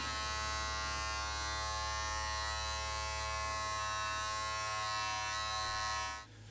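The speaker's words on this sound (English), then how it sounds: "For this, I'm going to use my clipper without a guard on it and use the inverted clipper technique." A Wahl hair clipper without a guard hums at close range, a steady electric buzz while trimming around the sideburns, ears and neck, then cuts off abruptly at the end.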